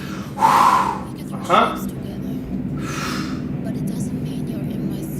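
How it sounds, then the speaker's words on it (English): During a dumbbell workout class, a person exhales forcefully in a few loud, close breaths, two strong bursts and then a softer one, followed by quiet room noise. "Nice big exhale each time."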